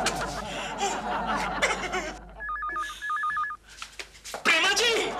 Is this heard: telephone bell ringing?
yes